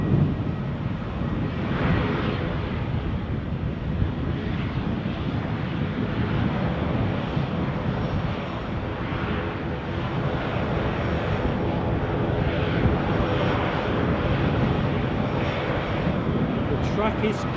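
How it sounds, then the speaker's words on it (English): ATR turboprop airliner departing Edinburgh airport for Dublin, a steady broad engine roar holding loud and constant throughout, with wind noise on the microphone. "The ATR to Dublin is about to sally forth."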